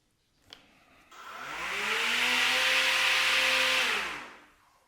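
An INGCO CSTLI20018 cordless brushless 40V lawn mower runs in gear one, its motor whirring up to a steady high hum that holds for a few seconds, then winds down to silence.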